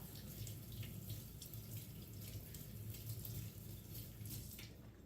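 A kitchen tap runs steadily while a sausage package is rinsed under it, giving a constant, even splashing hiss with no talk over it.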